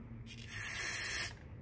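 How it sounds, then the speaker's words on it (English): Carb cleaner sprayed in a steady, close hissing blast for just under a second, aimed at engine parts and oil galleys during a Jeep L134 engine rebuild, with quiet room noise before and after. "All right, carb cleaner."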